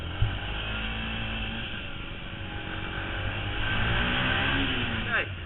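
A Yamaha WRX125 motorcycle engine hums steadily under riding, with a low, continuous drone that swells slightly toward the end and a brief whine of rising pitch just before it stops.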